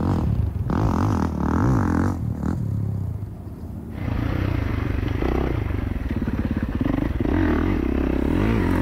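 A stock 2024 Kawasaki KX450 dirt bike engine runs loudly and continuously nearby, its pitch rising and falling with the throttle, briefly easing off before revving up again.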